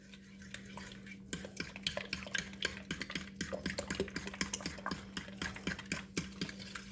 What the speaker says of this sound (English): we're going to mix this in with our butter